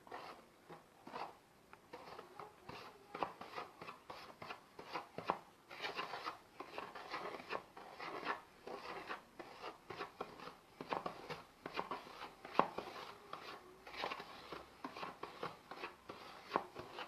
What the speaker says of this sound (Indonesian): Kemudian kita tuangkan sedikit-sedikit sambil diaduk.